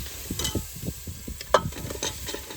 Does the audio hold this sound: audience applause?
no